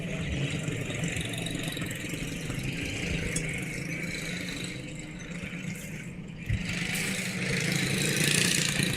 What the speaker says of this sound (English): Definitely a NASCAR Cup Series car, by the sounds of it.